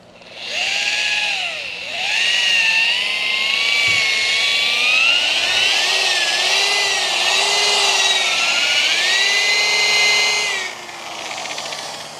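A car paint polisher runs at speed setting 4 during paint correction, a loud, close, continuous whine whose pitch wavers and shifts for about ten seconds before easing off near the end.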